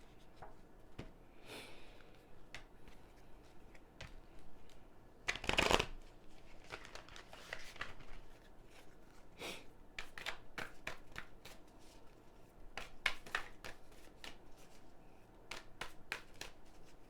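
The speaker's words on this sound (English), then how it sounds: "I'm going to pull you guys some cards from the Work Your Light Oracle deck" Cards from the Work Your Light Oracle deck are shuffled by hand, soft papery riffles and taps close up across many seconds, with one louder burst midway and no talk.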